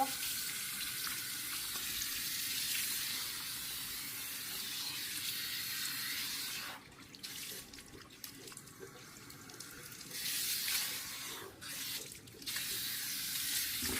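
A tap runs steadily into a salon back-wash shampoo sink, making a continuous splashing hiss that briefly drops and shifts a few times as the flow is blocked or redirected.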